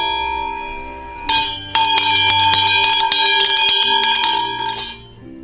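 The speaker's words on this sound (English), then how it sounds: "He's telling me I should ring the bell and wait." A bright bell rings repeatedly in rapid strokes, its tones overlapping and sustaining loudly for several seconds before dying away.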